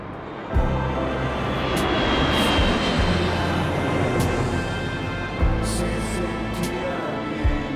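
Airplane engine drones steadily and loudly at close range, with brief thumps and bursts of wind noise; no speech is heard.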